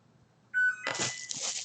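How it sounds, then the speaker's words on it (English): A kitchen oven timer gives a single steady electronic beep, loud and close, followed by a burst of broadband clatter and household noise. "Oh, there's the timer."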